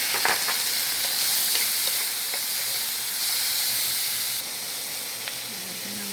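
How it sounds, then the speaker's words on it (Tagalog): Shrimp sauté in a hot pan with a loud, continuous sizzle and hiss that holds steady throughout, broken only by faint stirring clicks. "Isagisa natin ang kunting shrimp."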